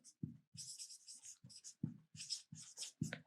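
Chalk or marker strokes on a board during a physics lesson on light reflection and refraction, a steady run of short scratchy strokes in close succession with brief pauses, close and clear with no talking.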